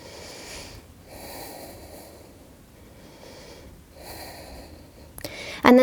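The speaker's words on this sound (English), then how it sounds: "Hold here and breathe." Steady breathing from someone holding a full plank during an upper-body workout flow: two slow, soft breath cycles close to the mic, then a sharper, louder exhale or snort at the end.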